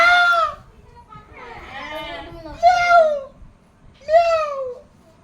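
A cat meows four times, drawn-out cries rising and falling, close by with short pauses between them.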